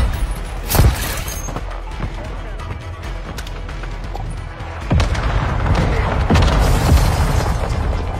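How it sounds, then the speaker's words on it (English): Mortar explosions in Call of Duty: Modern Warfare II, with a loud nearby boom early on and another heavy blast midway, followed by rumbling impacts over game noise and radio voices. "Hostile mortar strike near your position."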